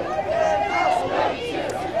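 A crowd of protesters marches through downtown Seattle streets, a dense wash of many voices chattering and shouting close by, continuous and fairly loud.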